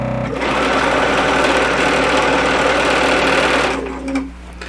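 A sewing machine with a quarter-inch presser foot runs steadily through fabric along a printed selvage edge, a loud, close, continuous whir for several seconds before it stops.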